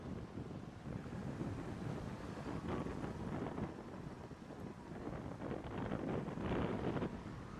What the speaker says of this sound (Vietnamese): Gió dữ lắm, gió luôn các bạn ơi